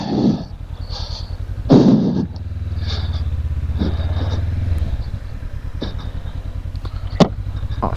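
A motorcycle engine, a KTM 390 Adventure or 2019 Honda CB500X, idles and revs on a volcano road in Oregon, a close steady thrum with short revs and clattering bumps.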